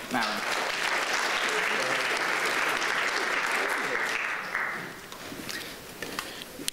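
Audience at a pediatric oncology ethics lecture breaking into sustained applause to welcome back the speaker, dense clapping that holds steady before tapering off into scattered claps.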